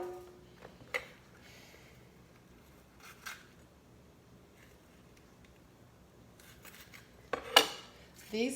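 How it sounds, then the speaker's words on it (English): A knife cutting sweet Italian peppers in half and scraping out the seeds on a cutting board: a few soft, scattered taps and clicks with long quiet gaps between them, faint and close. "I'll just cut the rest of them. So I just cutting them in half and then cut the seeds out."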